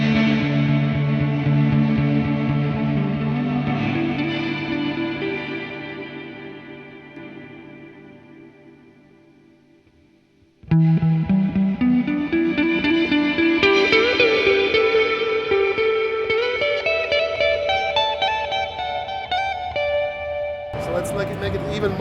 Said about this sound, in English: slightly louder strums are going to increase the level of the reverb